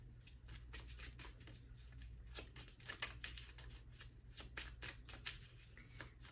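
Homemade oracle cards being shuffled, a soft, close run of rapid riffling and flicking patters in uneven bursts, quiet and without talk.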